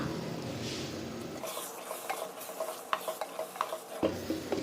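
Ground masala stirred into a sizzling fig curry in a pan, a soft frying hiss broken by several spoon scrapes and clinks, close by, with no talk.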